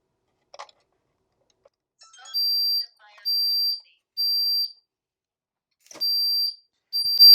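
A Honeywell 5808W3 wireless smoke detector, paired to a Qolsys IQ Panel 2 Plus, sounds repeated high-pitched electronic beeps, each about half a second long, in a steady pattern against near silence, with a few faint clicks before.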